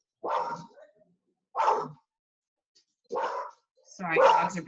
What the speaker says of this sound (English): dogs are being crazy right now